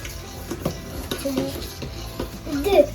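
A spoon stirs a pot in a home kitchen with steady scraping and clinking, moderately close and continuous, with faint background voices and small clatters throughout.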